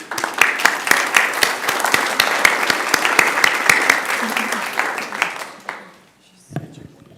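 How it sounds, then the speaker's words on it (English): An audience at a social justice gathering gives a loud, sustained round of applause with sharp individual claps, tapering off near the end before a brief sound at the close. "Please give yourselves a round of applause."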